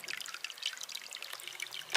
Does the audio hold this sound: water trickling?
yes